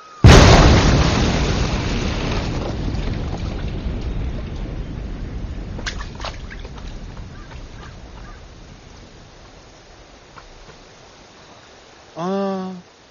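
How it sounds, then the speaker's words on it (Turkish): A controlled explosion in the countryside goes off with a sudden loud boom, then a long rumbling roar fades away over about ten seconds before a short honking quack near the end. "Kontrollü patlama."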